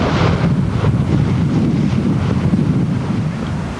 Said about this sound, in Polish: Wiaterek trochę wieje